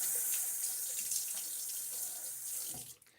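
A bathroom tap runs steadily into a sink for a rinse during a wet shave, a close hissing stream that cuts off abruptly near the end.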